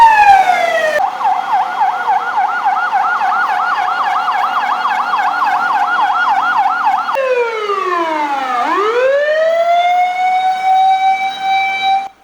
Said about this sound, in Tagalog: nagsidatingan pa ang mga karagdagang truck ng bumbero